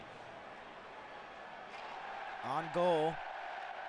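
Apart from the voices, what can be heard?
hockey arena crowd cheering after a save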